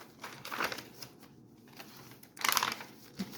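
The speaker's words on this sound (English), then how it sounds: "I love the sound of crinkled paper." Paper crinkles and rustles in short bursts, a soft patch early on and a louder, denser crackle near the end, with quiet handling sounds between.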